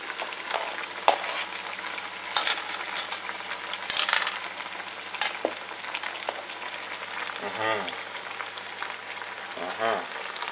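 Sliced plantain frying in a pan, with a continuous oily crackle, occasional sharper spatters and scraping as the pieces are moved, moderately close and unaccompanied by speech.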